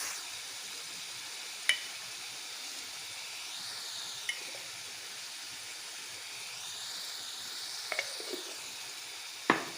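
Chopped garlic and ginger-garlic paste sizzle softly in a pan for butter chicken curry, a faint, steady frying hiss with a few sharp clicks of a utensil against the pan.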